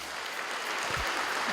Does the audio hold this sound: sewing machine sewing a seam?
no